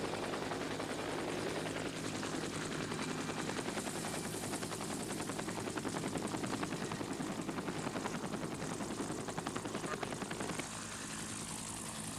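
A helicopter near Mount St. Helens, shortly after the 1980 eruption, setting down on a patch of ground north of the crater, its steady rotor chop and turbine whine loud and close throughout.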